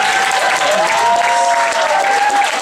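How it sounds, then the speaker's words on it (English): Poetry slam audience at the Nuyorican Poetry Slam applauding a poet after the scores are read, loud, sustained dense clapping from a packed room with a few cheers mixed in. "Damn the score, clap for the poet."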